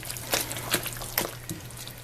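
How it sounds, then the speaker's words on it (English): A spoon stirs a caramel apple jam mixture in a pot, giving soft, wet scraping and sloshing strokes that repeat a few times at close range, fairly quiet. "give that a good stir"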